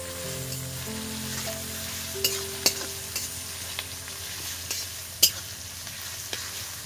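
A ground paste of ginger, chili and turmeric fries for mutton curry, a loud steady sizzle broken by sharp clinks and scrapes of a spatula stirring against the pan every second or so.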